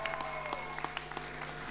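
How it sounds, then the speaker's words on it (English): Brief, modest applause from the crowd at a Scottish youth poetry slam for a school team, scattered claps heard faintly over a steady low hum. "Big round of applause."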